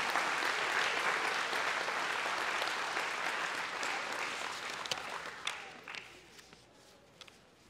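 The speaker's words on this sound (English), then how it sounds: "Give yourself a round of applause." A large audience gives a sustained round of applause at an evening speakers' event, steady dense clapping that gradually thins and fades toward the end, with no talking over it.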